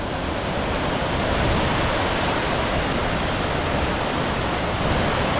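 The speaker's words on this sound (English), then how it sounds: "So we have a bit of a waterfall beside the trail." A waterfall beside a trail in Jotunheimen National Park, Norway, rushes in a steady, broadband roar, constant and close, with no pauses or other sounds breaking through.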